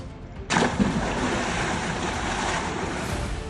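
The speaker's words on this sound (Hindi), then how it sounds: "फिर छपाक की आवाज के साथ इसने लैंडिंग की" A SpaceX Dragon spacecraft splashes down in the sea off Florida: a sudden broad whoosh of water, then steady surf and wind noise, heard from a distance.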